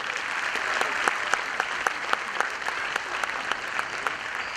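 Audience applause at an event, a dense, steady burst of many hands clapping close by, holding at an even level for several seconds with a faint crowd murmur and no one speaking.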